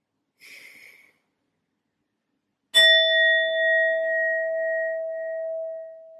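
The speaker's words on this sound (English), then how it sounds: "I'm first going to be using my sound bowl to clear and set the energy." A singing sound bowl gives a short faint tap, then after a pause a clear struck ring that sustains and slowly fades, its pure tone lingering alone in a quiet room.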